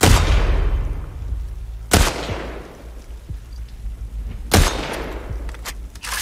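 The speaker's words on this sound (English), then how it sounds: "there's people shooting me all over" Gunfire in The Last of Us Part 2, with three sharp, loud shots, each followed by a long decaying echo, spaced a couple of seconds apart over steady low rumbling ambience.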